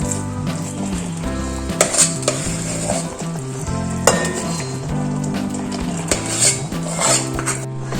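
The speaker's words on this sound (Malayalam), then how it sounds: "നന്നായിട്ടൊന്ന് ഉടച്ചു കൊടുക്കുക കേട്ടോ മിക്സ് ചെയ്യുക ഈ ശർക്കരയിൽ" Cooked green gram dal is stirred and mashed into melted jaggery in a pan for payasam, with steady scraping and soft sizzling over continuous background music.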